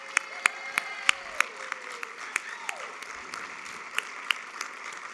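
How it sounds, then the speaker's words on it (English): Sparse, distinct handclaps from a small audience ring out at an irregular pace, each sharp and separate, with faint voices murmuring underneath in a quiet hall. "I want Tabitha and the members of the planning committee to stand for a round of applause."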